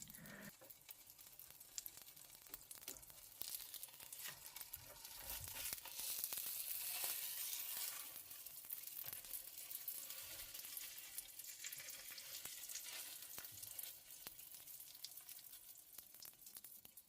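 Afghan bolani frying gives a long, steady sizzle with scattered crackles and light clatter, holding fairly even and peaking briefly midway, with no voices.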